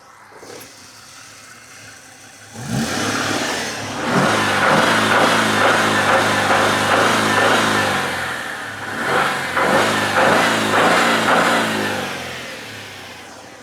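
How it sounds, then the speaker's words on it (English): A 1996 Mercury Cougar XR7, long left sitting, is revved up from idle several times. The engine surges loud and close in repeated rising bursts and sustained high revs, with a dip between pushes and no voices. "I'm gonna rev it up a few times and let you guys see the crud that comes out."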